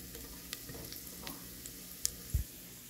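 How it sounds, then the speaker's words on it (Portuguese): Garlic browns in oil in a pan ahead of pressure-cooker rice, giving a faint, steady sizzle with scattered light stirring clicks and a couple of louder knocks near the end. "eu tô dourando um alhozinho pra fazer um arroz na panela de pressão"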